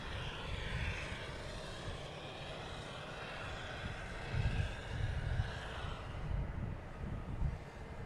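An airplane flies by at Boston Logan Airport, its engines making a steady, broad roar that swells slightly midway, heard from some distance.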